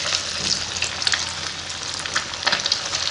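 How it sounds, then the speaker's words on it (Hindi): Egg and potato kababs fry in oil in a pan over a medium flame, giving a steady, close sizzle with fine crackling and occasional sharper pops, with no voices. "तो हम अब इसे फ्राई करते हैं।"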